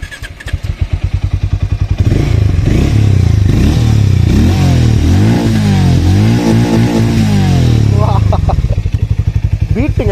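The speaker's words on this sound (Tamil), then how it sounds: "ஸ்டார்ட் பண்ணி பார்த்துருவோமா?" A 2025 Hero Maverick 440 motorcycle cranks up close and settles into a loud, throbbing idle with rapid thumping pulses and a few rising revs before easing back down.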